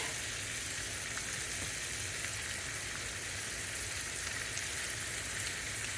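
Chicken pieces browning in a hot pan, giving a steady, close sizzle and crackle of fat that holds evenly throughout with no talking.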